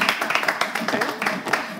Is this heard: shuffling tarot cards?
no